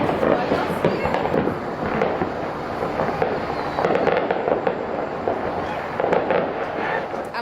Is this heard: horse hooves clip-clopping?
no